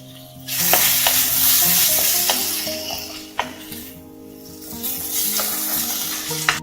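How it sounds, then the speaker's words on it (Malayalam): Tomatoes sauté in coconut oil for a squid roast, a loud steady sizzle broken by scraping stirs and occasional utensil clicks against the pan. "ഇനി തക്കാളി ഇട്ടൊന്ന് വഴറ്റാം"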